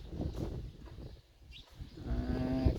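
Cattle in a rural Lao morning herd, with a low moo rising near the end over steady outdoor background noise.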